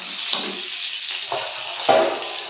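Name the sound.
stirring chopped green chillies frying in oil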